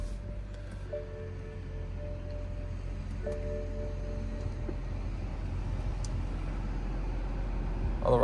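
A BMW E90 sedan idling just after startup, a low steady engine hum with faint rustle and a couple of brief chime-like tones early on, no talking.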